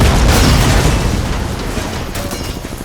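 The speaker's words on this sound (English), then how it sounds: "Got missile lock. Missile away." A missile launches and explodes in the video game Battlefield 2, a loud, rumbling boom that fills the moment and then slowly fades into a heavy roar.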